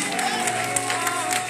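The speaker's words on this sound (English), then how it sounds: "Is somebody clapping for Jesus?" A crowd at a Holy Ghost healing encounter in Dublin, Ireland, claps in a loose patter of applause, with a voice speaking over it.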